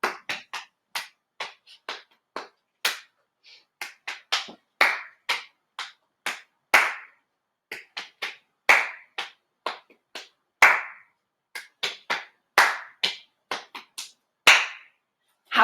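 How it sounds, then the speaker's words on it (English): Crisp hand claps and pats repeat in a quick, patterned rhythm four times over, sharp and close with short gaps between the sets and no talking. "do all of our new claps and pats 4 times in a row"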